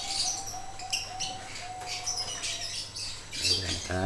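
Zebra doves (perkutut) calling inside a breeding cage, with repeated short chirps and squawks over a steady hum, close and moderately loud.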